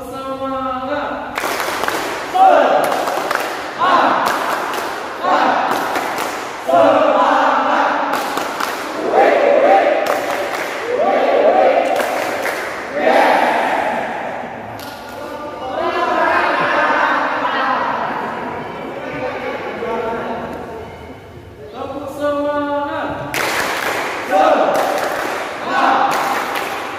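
A group of seminarians at a children's faith workshop performing a spirited rhythmic clapping chant, with loud claps punctuating voices chanting together in bursts and brief pauses between rounds.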